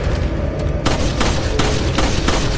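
Handgun fire in Resident Evil 4 (2005) during a boss fight, heard as several loud, sharp shots spaced roughly half a second apart over a busy, rumbling game background.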